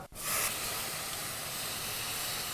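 Canned crushed tomatoes go into a hot pot of lemongrass soup with a sharp onset, then a loud steamy hiss and sizzle that settles into a steady, slightly quieter spitting.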